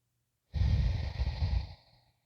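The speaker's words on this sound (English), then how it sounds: "Inhaling and exhaling." A single long breath during yoga practice, an audible close-up inhale and exhale that lasts about a second and a half and then fades, with no talking.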